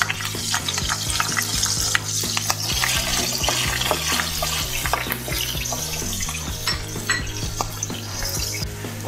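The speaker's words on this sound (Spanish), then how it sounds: "En este mismo aceite vamos a dorar el ajo." Garlic browns in leftover frying oil in a pan, a loud, dense sizzle with frequent clinks and scrapes of a utensil against the pan, no voices.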